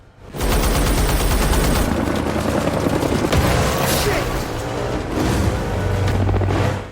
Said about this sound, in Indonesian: anak buah Salazar muncul dengan helikopter sambil menembaki mobil mereka